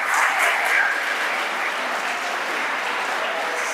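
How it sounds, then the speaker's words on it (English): An audience applauds at a talk, a dense, even wash of many hands clapping that holds steady from start to finish. "I think everybody should clap him."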